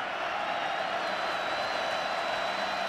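A college football stadium crowd roars steadily at an NC State Wolfpack home game against North Carolina, a dense, continuous wash of cheering and noise heard from a distance, without talk.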